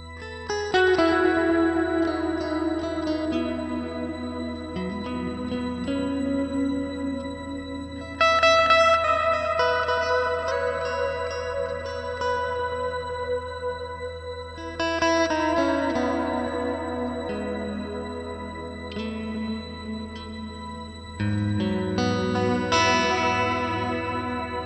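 Electric guitar runs through a Line 6 Helix modeler on firmware 3.15, with overdrive and a heavy reverb mix. Sustained chords and notes ring out and wash into long echoing tails, loud and alone across several phrases.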